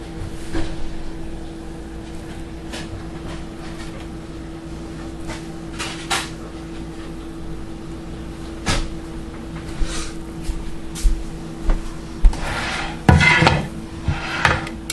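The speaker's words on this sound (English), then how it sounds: "Let me grab a plate, which I should have done first." Kitchen cupboard being opened and a plate taken out, heard as scattered light clunks and ceramic clinks through a quiet room, growing busier toward the end with a sharp knock near the close.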